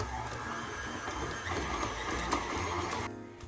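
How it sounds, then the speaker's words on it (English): An electric kitchen mixer creaming two sticks of butter, a steady whirring motor hum with slight rattling, fairly quiet and continuous, easing off near the end. "we're going to cream about 2 sticks of butter, that's a ½ pound of butter, in a mixer"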